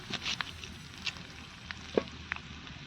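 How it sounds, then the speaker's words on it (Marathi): Bombil (Bombay duck fish) frying in a pan over a strong wood fire, a soft steady sizzle with scattered pops and crackles, close and fairly quiet, no talking. "कस काय आपलं बोंबील तळते ते बघा"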